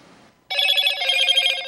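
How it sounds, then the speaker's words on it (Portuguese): A mobile phone's incoming-message tone sounds close and loud, a bright buzzing electronic trill that starts abruptly after a quiet moment and continues steadily for over a second. "O toque do celular avisa que uma mensagem acabou de chegar"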